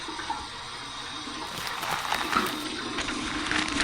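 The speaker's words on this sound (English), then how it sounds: "Here's my warm water rinse." Warm water runs from a tap for a rinse after shaving, a continuous splashing flow that swells slightly louder partway through, close by with no talking.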